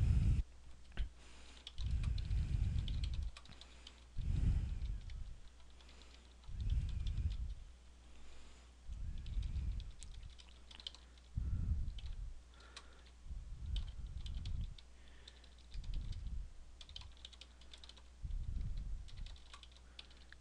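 Steady typing on a computer keyboard, rapid key clicks coming in bursts with short pauses between them, close and clear.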